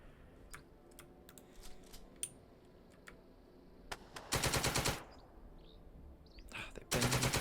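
Bursts of gunfire from the Second Front wargame, a WWII Deir el Shein scenario, come as two loud, dense volleys separated by sparse clicks and faint background noise, with no talk.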